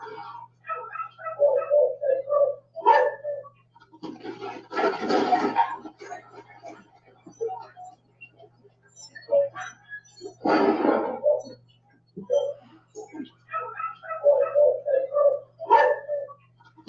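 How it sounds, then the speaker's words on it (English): A dog barks in a played video, several bursts of sharp barks spread across the recording, separated by quiet gaps and a few louder noisy blasts. "So you seen the dog was barking."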